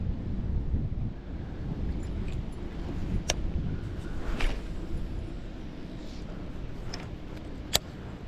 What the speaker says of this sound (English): It's a lot windier this afternoon.